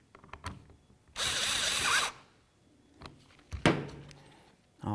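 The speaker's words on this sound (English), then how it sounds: "Start in all 3 of your screws and then snug them up." A power driver briefly whirs for about a second while snugging screws on a power window switch for a 2002-08 Dodge RAM, followed by clicks and handling knocks close by.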